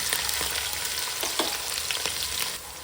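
Cumin seeds, green chili and onion fry in hot oil with a steady, close sizzle and crackle, broken by a few brief stirring scrapes; no voices.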